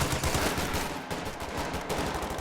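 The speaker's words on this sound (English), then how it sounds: "The machine guns there." Machine gun fire in the Company of Heroes 2 World War II strategy game, with dense rapid bursts of automatic gunfire crackling continuously and loudly, briefly easing once before resuming.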